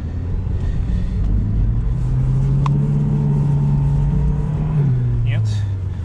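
A Lada Niva Travel 2021 engine revs steadily in low-range second gear while the SUV pushes through snow: a loud, continuous drone with a rising then falling pitch, up close, accompanied by background talk.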